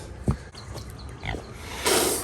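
Low, rough pig grunts close by, a few short snorts spaced irregularly, ending in a brief breathy rush of noise.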